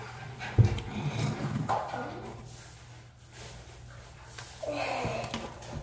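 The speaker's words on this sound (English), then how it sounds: "here's one dog." A dog close by gives a short sharp bark among snorts and breathy panting that swell and fade, with no one speaking.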